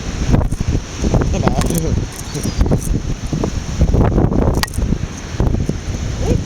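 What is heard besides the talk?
strong wind on Worthing Pier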